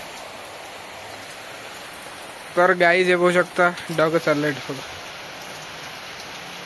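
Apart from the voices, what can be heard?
heavy rain falling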